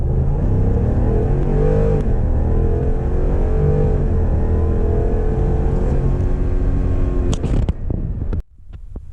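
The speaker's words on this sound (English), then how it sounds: "this is a 5-liter 2018 F-150 crew cab" A 2018 Ford F-150 crew cab with the 5.0-liter V8 accelerates hard from a standstill to 60 mph, its loud, close engine rising through rising-pitch gear pulls with wind rush, then cutting off abruptly near the end.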